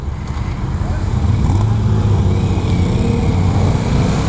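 A 2015 Yamaha FZ-07 motorcycle runs at a show in Long Beach, its engine a steady loud low rumble close by that holds even throughout with no clear start.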